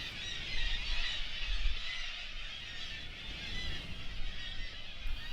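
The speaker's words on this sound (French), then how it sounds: "Des mouettes tridactyles." A distant, busy chorus of black-legged kittiwakes calling continuously at a cliff colony, their overlapping cries blending into a steady wash of sound.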